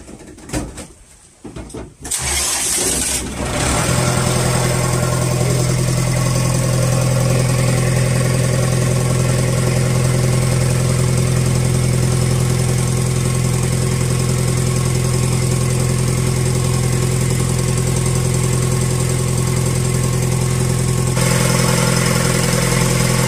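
On the Bagang 3 Putri 02 lift-net fishing boat, a generator engine cranks after a few seconds of quiet, then settles into a loud, steady close-up drone with a strong low hum that runs without a break.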